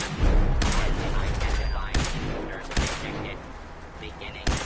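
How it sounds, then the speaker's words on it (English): Enemy gunfire in the Fallout 4 video game: several loud, sharp shots crack out at irregular intervals over a rumbling low-end game backdrop, close and punchy. "Guy just started shooting me."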